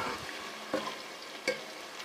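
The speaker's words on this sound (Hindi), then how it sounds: "हम चनों को भी जो है वो भून लेते हैं, 2-3 मिनट में भून लूँगी चनों को भी" Chickpeas fry with spices in a pan, giving a faint, even sizzle with two brief scraping stirs.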